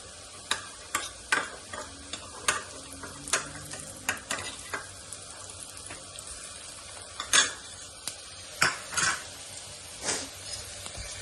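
Onions with ginger garlic paste fry in a pan, a soft sizzle broken by sharp scrapes and clinks as a spoon stirs against the metal, uneven and close, with no talk.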